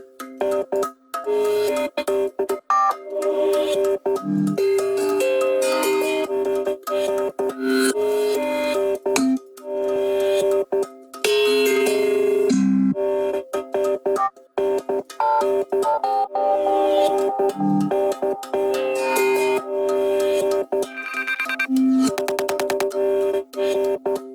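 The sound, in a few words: tongue drum percussion group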